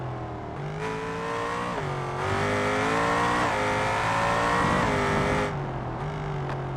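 A car engine in the driving game BeamNG, likely the Scintilla sports car, runs under partial throttle with a steady, smooth drone. Its pitch climbs and dips gently as the revs rise and ease off.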